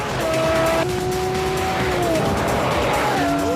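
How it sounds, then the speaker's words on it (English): A heavy, very fast car in the vein of a Zonda accelerates hard, its engine note rising and shifting through gears, with tires squealing loudly and close throughout. "This is not a light car, but my God, it's fast."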